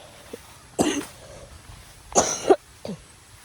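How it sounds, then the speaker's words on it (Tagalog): Three separate bursts of coughing, close and fairly loud, with quiet pauses between them and no talking. "inuutok-utok na po ako ng ubo."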